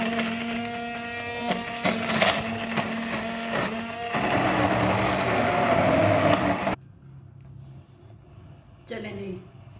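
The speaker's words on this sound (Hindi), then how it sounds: "अब क्या करते हैं, हैंड ब्लेंडर लेते हैं।" A handheld electric blender whirs through a thick porridge of grain and meat for several seconds, its motor pitch shifting as it works, then cuts out abruptly before a brief restart.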